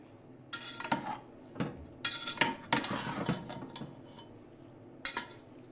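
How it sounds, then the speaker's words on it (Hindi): Chicken biryani gently mixed in a pot, with soft scraping stirs and occasional metal clinks of a spoon against the pot in short irregular bursts, close and quiet. "अब हम इसको मिक्स करेंगे बिरयानी को और फिर डिश आउट कर लेंगे।"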